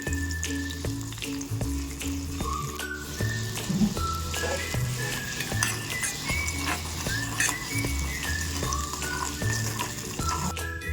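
Tamarind pulp with turmeric cooking in oil, a soft steady bubbling sizzle with faint patters, fairly quiet and close, over a low background hum and no speech.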